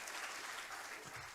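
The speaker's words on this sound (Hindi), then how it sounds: "तालियां आप लोग की जोरदार होनी चाहिए।" Applause from an audience at a Hindi poetry recitation for Vishwa Hindi Diwas at Royal Global University, a steady dense clapping that fills the whole short stretch without a break.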